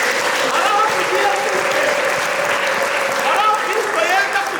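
A church congregation applauding together in a dense, continuous wash of clapping that stays loud and even throughout. Raised voices and cheers carry faintly through the clapping.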